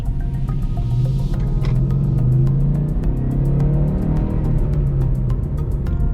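A stock 2012 Ford Mustang GT engine rumbles steadily from inside the car while driving, a deep low drone with slight rises in pitch as it revs.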